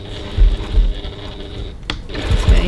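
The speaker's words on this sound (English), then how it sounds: "I'm stitching 3mm 1/8 of an inch from the edge of the strap decoration" A sewing machine stitches a handbag strap decoration 3mm from the edge at stitch length 3.3, a close, steady mechanical whirr with a rhythmic needle thump and a short pause before it runs on.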